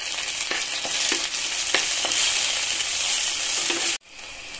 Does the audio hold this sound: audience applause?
no